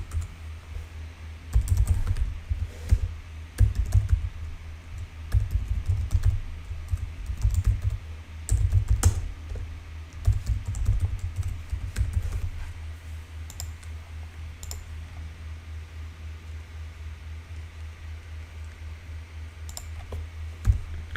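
Login credentials typed on a computer keyboard while booking a Belgian visa appointment: irregular bursts of close key clicks over a low steady hum, busiest in the first twelve seconds, then sparse and quieter.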